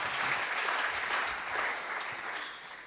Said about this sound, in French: Nous acclamons pour la parole de Dieu